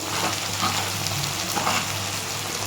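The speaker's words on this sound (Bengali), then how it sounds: "আমাদের মাংস কষাতে কষাতে পেঁয়াজ এমনি ভাজা হয়ে যাবে" Onions and chicken frying in a pan with turmeric, chilli powder and other spices, a steady close sizzle that holds without a break and with no talking.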